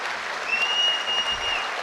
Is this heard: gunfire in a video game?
no